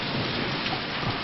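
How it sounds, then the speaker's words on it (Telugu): Steady, dense rainfall pours down close by with a low rumble of thunder underneath, continuous and even throughout, with no voices. "వర్షం వస్తుంది కదా"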